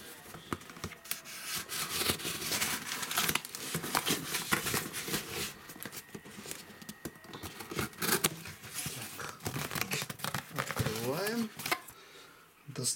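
A parcel is unpacked, with crinkling, rubbing and tearing of packaging in close, uneven bursts, while someone talks over it.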